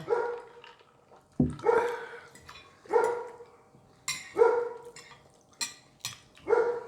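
Outside, a dog barks repeatedly in a steady rhythm, about five loud woofs spaced roughly a second and a half apart, close and clear with no voices.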